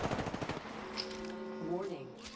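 Gunfire in the battle royale shooter Apex Legends, a quick burst of rapid shots at the start that fades into ringing tones and game effects, moderately loud, with no clear speech.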